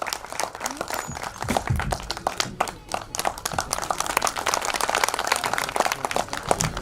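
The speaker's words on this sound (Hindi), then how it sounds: "एक बार जोरदार तालियां आजाद जी के लिए।" A large crowd at a Hindi film trailer launch event claps vigorously and continuously, dense and close, with loud scattered claps and a faint murmur of voices mixed in.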